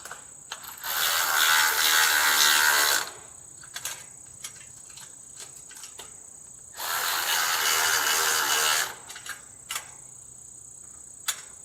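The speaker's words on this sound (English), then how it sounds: "now I got the right size wrench, and I grabbed a long one, so I shouldn't have to cram my hand through there again. Go ahead and tighten these up." Ratcheting wrench tightening bolts on an automatic chicken coop door opener, heard as two long bursts of rapid clicking, each lasting about two seconds, close up with quiet pauses and a few faint ticks between them.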